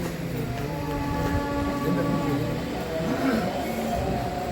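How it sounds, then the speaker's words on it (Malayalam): A steady low rumble of a train drawing near, continuous and fairly loud, with faint voices in the background. "ഒരു ട്രെയിൻ വരുന്നുണ്ട്, അതിൻ്റെ ഒച്ച കേൾക്കുന്നുണ്ട്"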